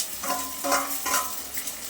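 Tomatoes sizzle in a hot pan while a spoon stirs and scrapes in short bursts, the frying steady and close.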